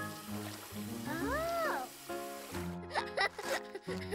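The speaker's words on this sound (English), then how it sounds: "he washes his hands with soap and water" Cartoon kitten washing its paws with soap and water: a pitched, sing-song voice carries over a background music bed, then splashing, trickling water sounds come in near the end, fairly close and clear.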